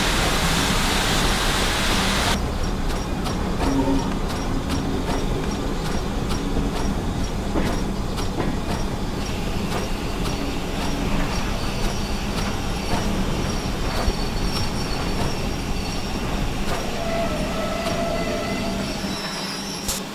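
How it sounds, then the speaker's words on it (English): A steam locomotive in a train simulator game brakes steadily toward a stop, giving a continuous loud rumble of wheels and rail noise with hissing and faint squeal throughout. "Bring the engine to a gentle stop."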